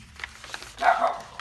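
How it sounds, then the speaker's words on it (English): A household dog gives a brief bark burst, mid-distance indoors, over faint background room noise while a person speaks quietly nearby. "excuse the dog barking"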